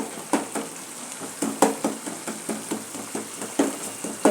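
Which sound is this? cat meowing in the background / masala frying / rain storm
masala frying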